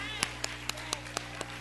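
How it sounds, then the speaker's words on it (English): A church congregation clapping in unison during a service, seven sharp, evenly spaced claps at a quick steady beat over a low sustained hum. "Y'all should be clapping."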